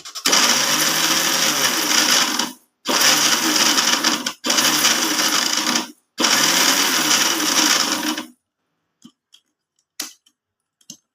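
Mixer grinder grinding homemade pav bhaji masala spice blend, a loud whirring roar running in four bursts separated by brief pauses, then stopping, followed by faint clicks and knocks.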